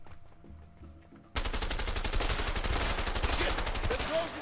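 Dense automatic gunfire erupts in the video game A Way Out, a loud rapid stream of shots that follows a brief quieter stretch and runs on to the end.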